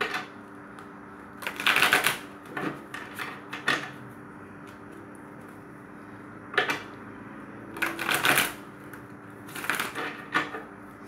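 Tarot cards are shuffled in short, crisp bursts of riffling and tapping, separated by quiet pauses, close to the microphone with no talking.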